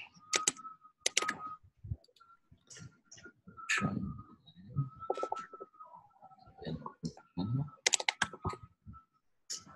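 Bursts of clicky typing on a computer keyboard, close and uneven in rhythm, alternating with someone talking through a supply and demand trading lesson, with bird cooing faintly in the background.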